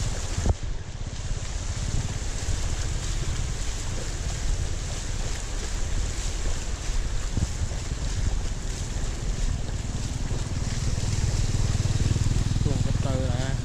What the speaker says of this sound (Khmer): ទឹកហូរគួរខ្លាំង